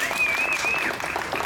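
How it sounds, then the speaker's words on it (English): Steady applause from an audience at a Halloween magic show at Disneyland's Big Thunder Ranch fills the whole moment, moderately loud and continuous, with a faint tone running underneath. "Let's give her a thunderous round of applause."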